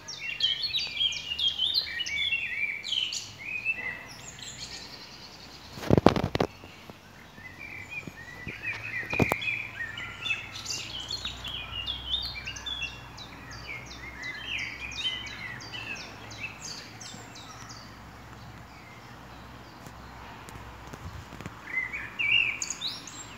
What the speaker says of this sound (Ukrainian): Пташки співають гарно.